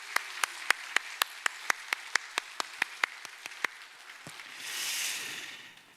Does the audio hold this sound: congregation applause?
yes